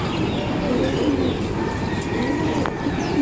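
Young racing pigeons at their loft, with a steady chorus of close, loud cooing and soft calls throughout and no talking.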